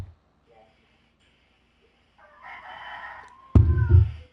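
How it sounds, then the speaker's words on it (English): In the Philippines a rooster lets out one loud, close crow that rises out of a quiet rural background. Near the end it swells into a strong, harsh call. "That's a rooster in the Philippines."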